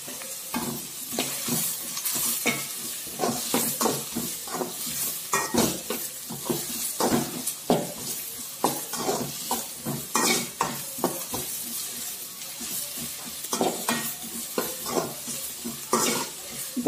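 Onions sautéing with green chillies in a pan for an egg gravy, with a steady sizzle broken by repeated rhythmic scrapes and clanks of a spoon stirring against the pan.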